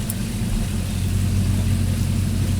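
A truck engine idles close by, a steady low rumble with a throaty pulse that holds at the same pitch throughout, with no voices over it.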